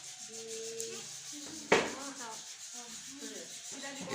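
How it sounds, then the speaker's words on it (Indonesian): Sandpaper rubbing an object smooth, a rough scratchy stroke under a voice talking, with one louder abrasive burst partway through. "Digosok hingga halus ya. Memakai amplas."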